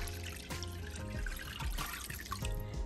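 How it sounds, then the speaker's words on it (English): Two cups of water poured into a pot of oxtail broth, a short splashing, gurgling pour close by lasting a few seconds. "This is my 2 cups of water that I'm gonna go ahead and put in here."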